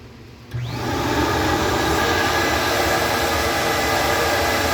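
A flow bench starts up to test a Ford GT40 tubular intake manifold, its motor ramping from quiet into a loud, steady vacuum-like roar that holds without a break.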